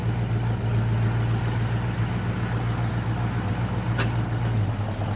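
A 1967 Chevrolet Chevelle SS 396 with a numbers-matching V8 idles steadily, its exhaust giving a low, even rumble up close with no talking over it.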